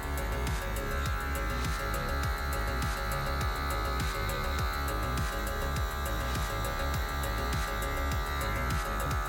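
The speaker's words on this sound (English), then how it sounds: "We're gonna use the trimmer and then the shaver again." An electric hair trimmer buzzes steadily up close during a skin fade haircut at the neck, with a faint pulsing rhythm as it works, and no one speaks.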